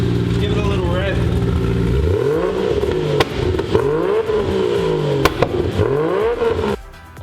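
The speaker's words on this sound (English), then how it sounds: "Give it a little rev." A rebuilt Toyota Supra engine with freshly dialled-in camshafts revs up and down several times, loud and close, with mechanical clatter around a rough idle while people talk nearby.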